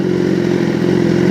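A motorcycle engine idles as the bike rolls to a stop, a loud, close, steady low rumble with a fast even pulse.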